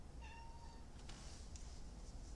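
A cat gives a single close meow with a tonal, drawn-out start, followed by a few faint clicks and rustles in a quiet room.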